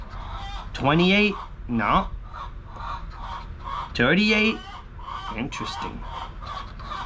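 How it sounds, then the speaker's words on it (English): Chickens cluck and squawk loudly nearby in several excited bursts, with a person talking steadily over them. "my chickens are going nuts"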